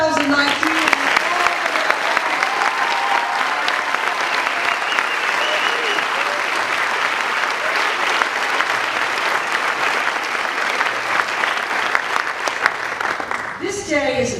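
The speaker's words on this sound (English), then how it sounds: "A big round of applause for the graduates of 2019." Sustained, loud applause from a large crowd honoring the 2019 graduates at a commencement ceremony, a dense steady roar of clapping lasting over ten seconds before fading.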